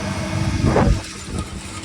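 A YOTO tractor pulls a Veles Agro turbo-disc seeder sowing spring barley on a no-till field, giving a steady low engine rumble that swells briefly midway, then settles back to a constant drone.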